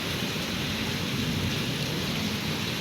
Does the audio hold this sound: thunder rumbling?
yes